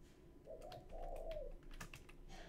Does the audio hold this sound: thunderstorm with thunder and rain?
no